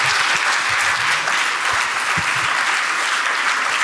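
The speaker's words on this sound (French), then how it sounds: "je vous demande d'applaudir très chaleureusement nos intervenantes." A seated audience at a French literary round-table gives warm applause, a dense, steady wash of clapping that fills the room and continues evenly throughout.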